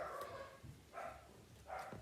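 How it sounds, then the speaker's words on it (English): A puppy barks in the background in short yaps, three separate bursts spread over two seconds, fairly faint and distant, with no talk over them. "Excuse the puppy in the background."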